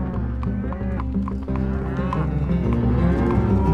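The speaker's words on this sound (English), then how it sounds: "help drive their cattle along US 95" A herd of cattle moos repeatedly and overlapping during a spring cattle drive along US 95, Idaho's main north-south highway, with continuous low lowing and bellows filling the scene at close to moderate distance.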